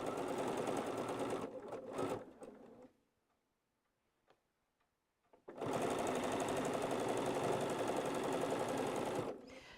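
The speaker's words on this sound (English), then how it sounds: "when I start sewing a block together, I just work from seam to seam" Sewing machine stitching a quilt block together, a fast steady whirring run that stops for a few near-silent seconds with faint clicks, then starts again at full speed.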